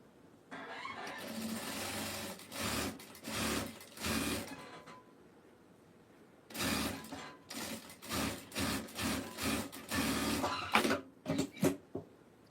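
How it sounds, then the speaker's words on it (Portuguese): A sewing machine stitches fabric for a rabbit craft in quick mechanical bursts, several runs of rapid stitching separated by short pauses, close and fairly loud with no talk. "Agora, eu vou costurar em cima aqui"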